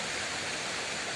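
Waterfall flowing, a steady, even wash of falling water heard close and alone, with no voices over it.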